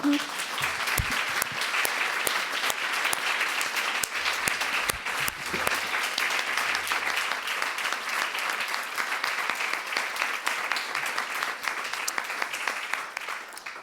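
Sustained audience applause fills a museum colloquium round table in Geneva, a steady dense clatter of many hands at moderate distance, continuing evenly without talk for the whole stretch.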